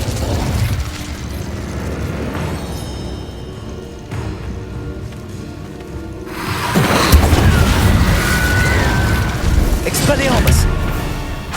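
Incendio fire spell cast in the Hogwarts Legacy video game, a loud whooshing burst of flame that swells midway and keeps roaring with crackles over busy game sound effects.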